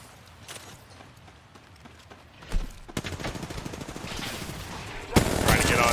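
Gunfire from an Apex Legends battle royale match: rapid bursts of shots start around midway and continue in dense volleys, with a loud sharp burst near the end, over a busy background of game effects.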